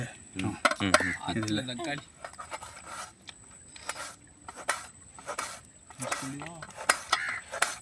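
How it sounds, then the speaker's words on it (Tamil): A knife cuts tomatoes during outdoor cooking of fish shawarma, giving a run of sharp, irregular chopping taps at close range, with someone talking at the start and on and off throughout. "அடுத்து தக்காளி வெட்ட ஆரம்பிச்சிட்டாரு"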